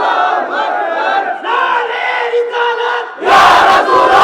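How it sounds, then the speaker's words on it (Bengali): A large crowd at a religious gathering chants a slogan in unison, loud and close, in rising and falling phrases, then bursts into a louder roar at the end. "স্লোগান দেন একটা।"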